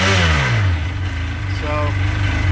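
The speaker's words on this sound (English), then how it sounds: "Go ahead and rev it a little bit." A Seadoo 951 DI watercraft engine revs up close and loud, its pitch rising, then falling back to a steady idle and lifting slightly again.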